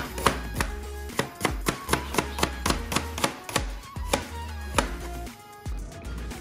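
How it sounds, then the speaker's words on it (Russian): Two onion heads are cut into thin strips with a knife on a board, giving a quick, steady run of crisp chopping taps, about two per second, close and clear with no talking. "Лук я беру 2 головки и нарезаю вот такой вот соломкой."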